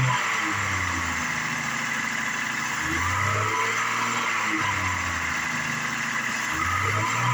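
A 2005 GMC Envoy engine with about 139,685 miles idles steadily up close, with a few gentle rises and dips in revs and no talking.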